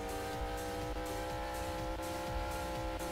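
A car driven in the Roblox-style game Mad City, its engine humming continuously with repeated revving swells and faint tire noise, steady and fairly quiet with no talk.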